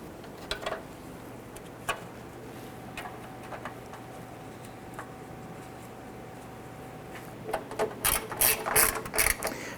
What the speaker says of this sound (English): Once these are all in, we'll tighten them down.